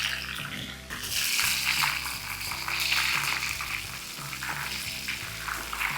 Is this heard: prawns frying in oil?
yes